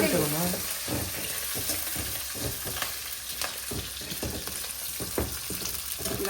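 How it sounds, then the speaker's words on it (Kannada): Curry leaves and spices frying in hot tempering oil for a chicken pepper dry, giving a steady, close, crackling sizzle throughout with occasional stirring clicks. "ಒಗ್ಗರಣೆಗೆ ಹಾಕಿ ಫ್ರೈ ಮಾಡಬೇಕು"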